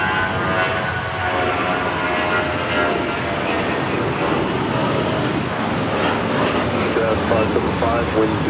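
A jet takes off from runway 25 right at LAX, a steady, loud engine roar with broadband rushing that holds constant throughout, a voice faintly audible beneath it.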